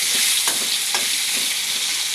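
Pieces of fish and eggplant hiss and sizzle in hot oil, a loud continuous frying crackle with a few soft stirring scrapes.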